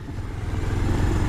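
A motorcycle is ridden along a muddy off-road track after rain, its engine close and loud, droning and rising slightly as it pushes on without pause.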